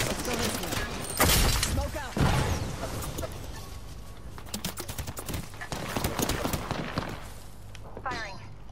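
Gunfire from the Apex Legends battle royale game during a Flashpoint match, with sharp bursts and scattered cracks mixed with other game effects, heard under near, continuous talk from a player.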